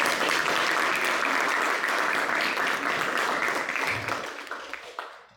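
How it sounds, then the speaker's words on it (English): Audience applause at a youth leadership meeting, a dense steady wash of many hands clapping that thins out and fades over the last second. "let us give a huge round of applause for all these evaluations"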